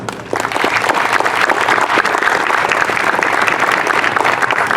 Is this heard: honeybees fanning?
no